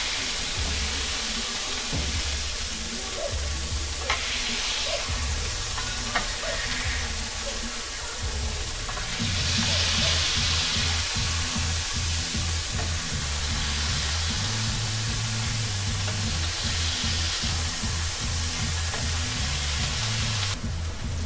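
A smash burger patty pressed thin on a griddle, a long steady loud sizzle with scraping and clanking spatula sounds throughout and no voices.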